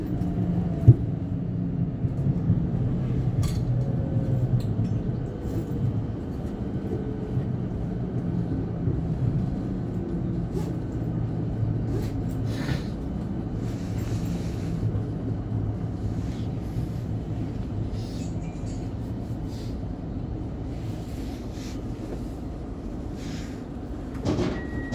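A Siemens Nexas electric train running from Werribee toward Flinders Street, heard from inside the carriage as a steady low rumble with faint clicks and rattles and a few brief higher squeals along the track.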